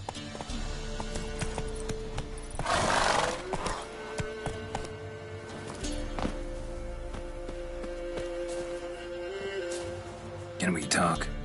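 Roach, the horse in The Witcher 3: Wild Hunt, galloping with a steady rhythmic clip-clop of hooves over game music and ambience, with a brief louder rush partway through and voices speaking at times.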